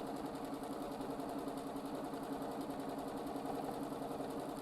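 A sewing machine running steadily while free-motion quilting a feather design gives a quiet, even, continuous whirring hum with a fine rapid stitching pulse and no pauses.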